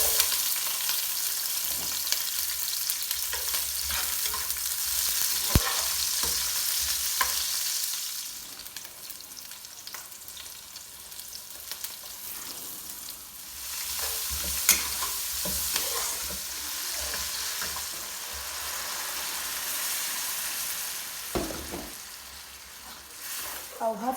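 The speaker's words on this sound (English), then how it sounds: "I've added in some vegetable oil. I'm just going now to put in my chopped onion." Chopped onion frying in vegetable oil for Cameroon okra soup: a continuous hiss with frequent stirring scrapes and pops, loudest at the start and swelling again midway, with occasional faint background voice.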